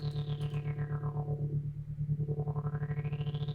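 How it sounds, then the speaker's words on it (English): A buzzy synthesizer tone pulses rapidly in volume under a triangle LFO while its brightness sweeps down and then back up, a wobbling, rhythmic electronic sound. "So now the amplifier is basically opening and closing very, very quickly according to this LFO rate."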